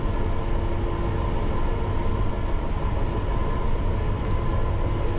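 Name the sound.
London Underground Piccadilly line train running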